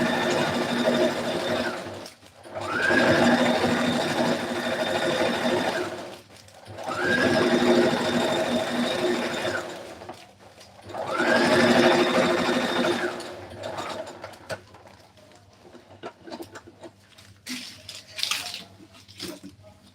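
Sewing machine stitching an elastic channel on a simple dress, three close, loud bursts of rapid whirring stitching separated by short pauses, followed by quieter handling clicks and rustles.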